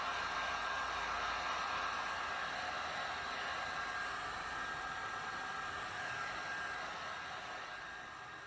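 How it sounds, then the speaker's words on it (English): A heat gun blows steadily with an even, airy roar as it softens old double-sided tape holding the spoiler on a Mercedes C300 (W205). The sound is close, constant and continuous, with no talking. "I'm going to use a heat gun and heat up the old double-sided tape."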